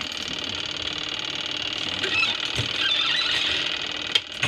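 An old, repaired washing machine runs with a steady mechanical whir and a fine, fast rattle, loud and continuous, with a couple of sharp clicks near the end.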